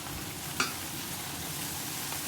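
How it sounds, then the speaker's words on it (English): Hot sauce cooking in a little oil, a steady close sizzle and crackle throughout, with one brief utensil tap early on. "And oil a little bit and cook a little bit the hot sauce."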